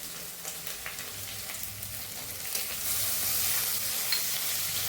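Coarsely crushed garlic fries in a pan as it is stirred, the start of a dhaba-style garlic spinach. A continuous close sizzle swells a little louder partway through, with light stirring noises and no talking.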